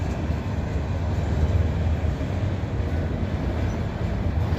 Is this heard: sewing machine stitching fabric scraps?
no